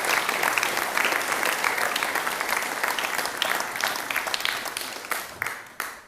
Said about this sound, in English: So quick round of applause for Neil Arthur